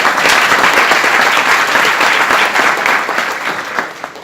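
An audience applauds at an evening money-management training seminar, with dense, steady clapping from many hands that is loud and close and slowly thins toward the end.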